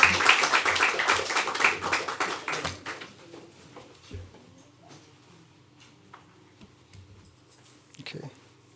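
An audience at a company annual general meeting breaks into a burst of brisk clapping for the chairman that lasts about three seconds, then fades to a few scattered claps and quiet room noise as a voice begins speaking.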